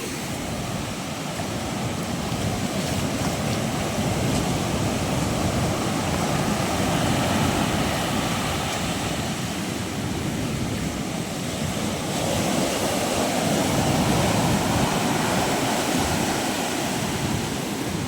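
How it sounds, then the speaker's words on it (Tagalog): Powerful seawater pours into a seaside hut with a continuous, roaring wash of surf that swells slightly in places and stays loud and near throughout, with no talking. "Grabe, laka ng tubig"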